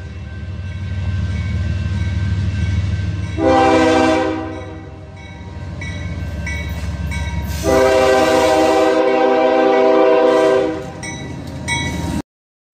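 Train locomotive 5367 rumbles past as it speeds up, sounding two long, loud horn blasts over the low rolling engine and wheel noise. The clip cuts off abruptly at the end.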